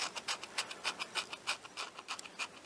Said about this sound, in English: I'm just using my fingernail to scrape the old glue off